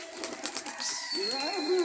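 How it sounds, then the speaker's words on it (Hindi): Pigeons take off from a rooftop loft, a brief flurry of flapping wings mixed with soft coos and bird calls, fairly close and continuous over a low outdoor background. "ये देखो भाई जान, ये उड़ गए कबूतर।"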